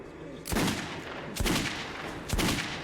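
Three heavy gunshots ring out at roughly one-second intervals in the first-person shooter Metro 2033, each a loud booming crack with a short reverberant tail over a steady low background.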